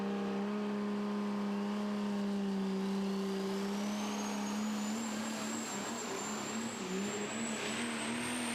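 A Super Stock diesel pickup truck roars loud and steady at a desert truck pull, its engine held under heavy load, with a thin whine rising over the long, continuous pull.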